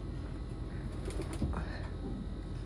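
Faint, soft cooing from a breeding pair of Golden Kalduma Tara pigeons, low and muffled against quiet background hiss.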